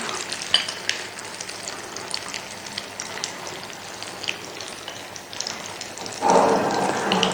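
Egg frying with mushrooms in a pan makes a continuous close sizzle and crackle with scattered pops, swelling into a louder burst of hiss near the end as the egg goes in.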